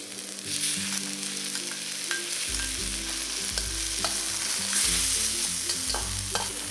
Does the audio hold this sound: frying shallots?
yes